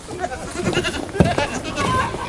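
Pregnant goats on a farm bleating over steady nearby chatter and background noise, the animal calls brief and mixed in with the voices.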